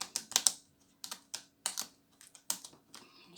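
A thick oracle deck with many cards being shuffled in the hands, a run of crisp riffling bursts and flicks in an irregular rhythm, close and fairly quiet with no talking.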